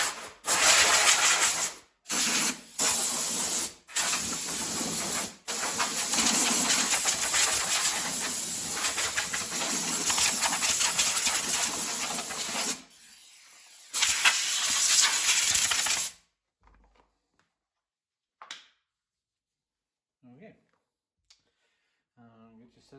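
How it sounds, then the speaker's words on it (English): Loud hissing spray from a compressed-air nozzle in several bursts, some short and one long, blowing dust off a Yardworks lawnmower, followed by quiet with faint clicks and a little talk. "I'm just gonna give it a quick spray off here, get some of this dust and stuff."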